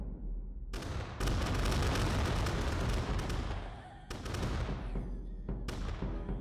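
Musket volleys and cannon fire in Totally Accurate Battle Simulator, loud crackling bursts of massed gunfire in several waves with abrupt starts and brief gaps between them.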